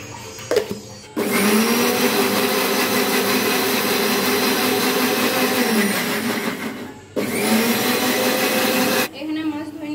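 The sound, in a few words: electric blender grinding ginger, garlic and cumin spices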